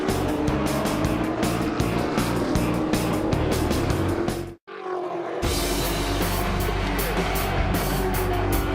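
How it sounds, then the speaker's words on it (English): Old-school Touring Car Masters race cars, including a Charger and a Camaro, roar at full throttle up at the top of Mount Panorama, Bathurst, their loud engines droning continuously with a brief lull midway before the racket resumes. "It's old school racing at the top of Mount Panorama."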